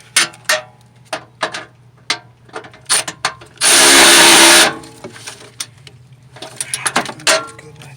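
Ratchet wrench clicking as bolts on a Honda transmission range switch are tightened, short bursts of rapid pawl ticks with a steady whirring run in the middle, close and fairly loud.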